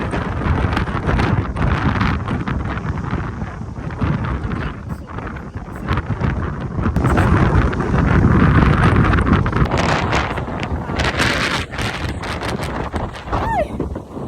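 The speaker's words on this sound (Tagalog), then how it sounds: "Ang lakas ng hangin." Strong wind at the Kapurpurawan rock formation in Ilocos, Philippines, roars and buffets the microphone nonstop, a dense rumbling gust noise with faint voices buried underneath.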